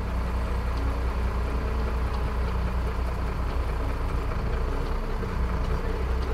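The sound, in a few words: truck engine running in gear during brake tug test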